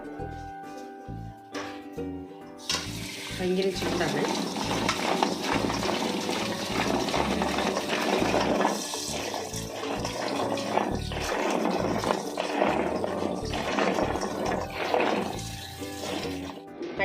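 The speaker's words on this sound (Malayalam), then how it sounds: "നമുക്കൊന്ന് വെള്ളം ഒഴിച്ച് കഴുകിയെടുക്കാം" Water pours over boiled jackfruit seeds to wash them, giving a steady rushing splash that fills most of the stretch; a person speaks briefly at the start.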